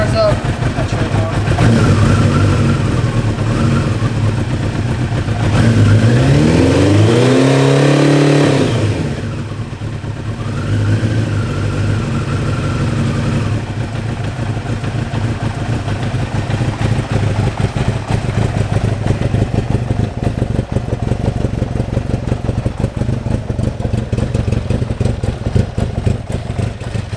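A 1985 Kawasaki GPZ900R carbureted sports bike engine runs close by, a rough idle swelling into a rising rev that peaks and falls back, then settles into a steady, slightly clattery idle for the rest, with brief talking early on.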